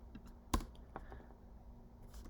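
A few keystrokes on a computer keyboard, one sharper tap followed by a couple of soft clicks, close but faint against a quiet room, no talking.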